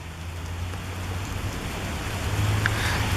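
Steady rain falls outdoors at a railroad site with old locomotives, a continuous hiss of drops on surfaces with a low hum beneath that grows slightly louder toward the end.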